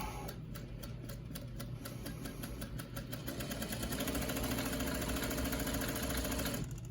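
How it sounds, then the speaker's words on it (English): A sewing machine hums and clatters steadily, its rapid needle ticking down the center of a fabric face mask at an even pace before cutting off at the end. "put it into the sewing machine, and we're just going to sew right down the center of it"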